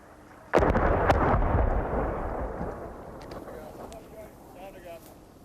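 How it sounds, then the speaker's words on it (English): Artillery rounds fired from a distance exploding a few hundred yards away at a deserted front line, one sharp heavy boom followed by a long rumbling roll that slowly fades, with faint crackles after. "Multiple artillery rounds from the direction of Turkey exploded a few hundred yards behind us."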